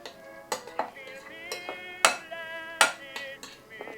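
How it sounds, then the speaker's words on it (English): A spoon knocks and scrapes against a bowl while guacamole is stirred with tomatoes, lime and cilantro, giving a run of sharp, close clinks at an irregular rhythm. "Now we're going to mix this all together until it makes a nice guacamole."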